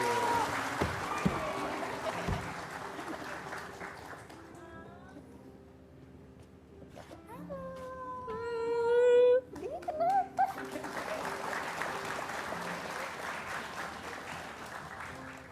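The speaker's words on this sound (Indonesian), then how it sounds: "Tepuk tangan buat Wahyu." A small group of people, parents and children in an inclusive school classroom, clap their hands in applause, with brief bursts of clapping around voices, a child's singing and chatter.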